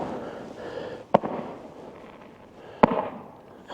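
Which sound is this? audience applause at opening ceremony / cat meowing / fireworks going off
fireworks going off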